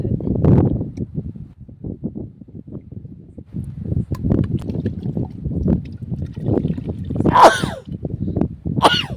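Several sneezes from a person with a cold, bursting out sharply near the end over a background of low rumbling, rustling noise.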